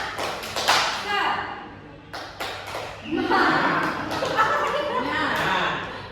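A classroom of pupils doing the rhythmic 'tepuk semangat' spirit clap, a run of sharp hand claps in patterned bursts mixed with children's chanting voices, fairly close and lively, with a teacher's voice around it.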